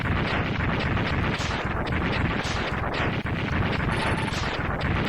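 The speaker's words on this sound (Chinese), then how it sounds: "城堡呢又爆炸了" A castle blowing up in Mega Man X2, a continuous roaring rumble of explosions that stays loud and dense throughout without pause.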